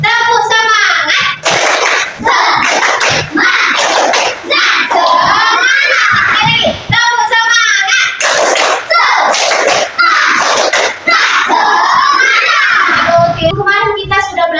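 Classroom of schoolchildren chants a loud rhythmic clapping cheer together, bursts of shouted voices alternating with sharp group claps in a repeating pattern that runs for many seconds.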